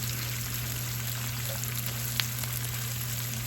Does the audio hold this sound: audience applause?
no